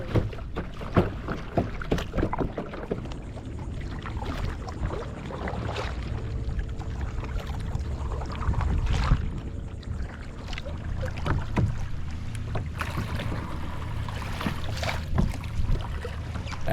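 A kayak paddles through the water at John D MacArthur Beach State Park in North Palm Beach, Florida, with soft splashes and drips from repeated strokes over steady wind noise, close and with no talking.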